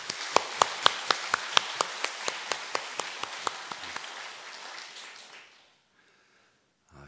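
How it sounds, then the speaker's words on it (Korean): A church congregation applauding the choir after a hymn: a sustained burst of clapping with sharp individual claps standing out, fading to silence after about five seconds. "여러분 박수로 격려해 주세요"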